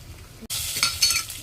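Freshly netted prawns frying in oil, a quiet start that breaks suddenly into a loud bright hiss of sizzling, close and continuous for the last second.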